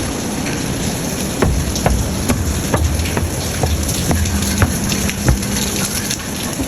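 Rain falls steadily at Batu Caves in Malaysia, a close, constant patter with scattered sharper drips hitting surfaces throughout.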